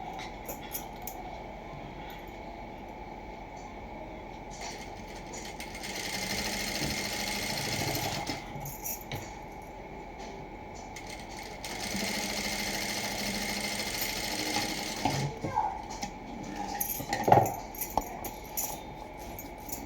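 A sewing machine runs double stitching along a plain blouse in steady whirring bursts of several seconds, separated by brief pauses, close and moderately loud with a light mechanical rattle.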